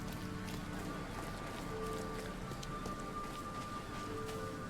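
Steady rain in the video game The Sinking City, a continuous hiss of falling water across the whole stretch with faint tonal game sounds layered underneath.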